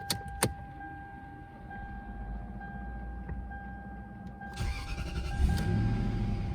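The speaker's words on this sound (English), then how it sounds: "Turn the car back on." A Lexus LS430 is switched back on with its keys: a soft jingle and click, a quiet stretch, then the engine catches and settles into a low steady hum.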